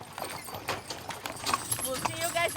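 Horses of the Corral 14 Death Valley Wagon Train clip-clop in a quick steady rhythm on a trek across the Mojave Desert, close by and fairly loud, with a voice talking over the hooves.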